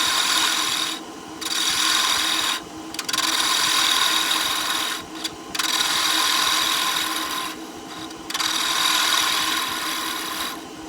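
A lathe gouge cuts down the stem of a wooden goblet, giving a steady, loud rasping hiss that breaks off in a few short pauses as the tool lifts and re-engages.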